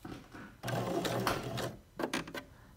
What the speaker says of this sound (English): really want to make sure I sew right next to where that pin is